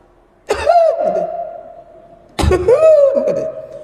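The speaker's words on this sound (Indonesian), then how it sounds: "Taunya aku batuk ini disengaja sebenarnya." Two deliberate, forced coughs, each a sharp burst trailing into a drawn-out throaty groan, loud and near with a pause between them.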